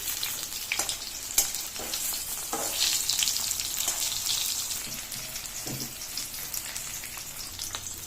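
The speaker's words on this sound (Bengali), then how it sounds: "সেটা এরপরে এটাতে ফ্রাই হতে দিয়ে দিই।" Eggs fry in a pan for an egg chaap, a steady bubbling sizzle with irregular crackles and a couple of sharper spatters, moderately close and unaccompanied by speech.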